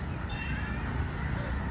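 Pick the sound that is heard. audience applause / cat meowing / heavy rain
cat meowing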